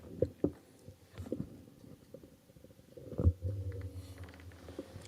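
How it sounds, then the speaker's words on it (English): A fart sound effect played through an Alexa smart speaker, heard as a few short low rumbling bursts followed by a longer, louder sputtering fart, fairly quiet and alone. "Alexa, play a fart sound."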